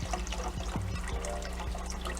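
Liquid pours gently from a container into a soup pot for French onion soup, a soft continuous trickle with a few gurgles, close and fairly quiet.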